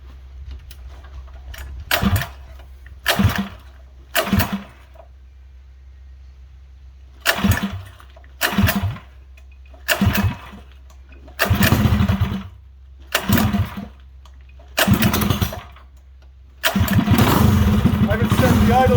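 A modified Volkswagen Beetle engine cranks and catches repeatedly in short bursts against a low background hum, then settles into a louder, steady rough idle at the end.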